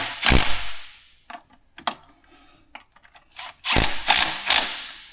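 A ratchet tightens the bolts on a Ford Mustang's plastic intake manifold, with close metallic clicking in short rapid bursts separated by brief pauses, loud bursts at the start and again near the end.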